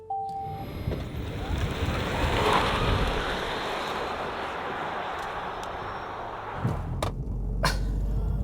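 A Haval H6 GT hybrid accelerates hard from a launch-control start with a sustained rushing roar of engine and wind noise, steady and loud, easing off near the end with a few sharp knocks.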